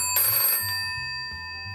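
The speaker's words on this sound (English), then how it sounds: "Oh, it seems like my phone is ringing again" A phone ringtone chimes with a bright, sustained ring followed by low electronic tones pulsing in a short pattern, clear and close with no talking.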